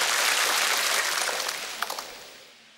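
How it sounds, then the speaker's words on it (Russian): A studio audience applauds in a dense, steady patter of many hands that gradually thins and fades out over a few seconds, with no talking over it. "И аплодисменты бабушке."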